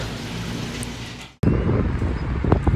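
Wind buffets the microphone on the cloudy, cool Great Plains near Goodland, a steady rushing roar that cuts out abruptly mid-way and then returns louder with gusty thumps.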